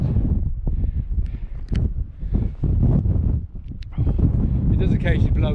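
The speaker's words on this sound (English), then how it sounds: "Our wind has got quite a chill to it." Chilly wind buffeting on the summit of Skiddaw in the Lake District, loud gusty rumbling and microphone roar that rises and falls, with a person talking over it.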